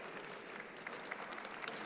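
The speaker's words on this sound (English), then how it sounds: "Give them a round of applause." Audience applause for a panel of film-industry guests at a sustainability event, a steady wash of clapping held at an even level for the whole short stretch, moderately distant and without speech.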